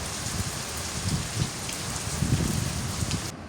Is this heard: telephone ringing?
no